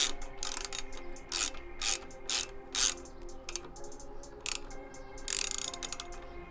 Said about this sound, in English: now you can go ahead and tighten down your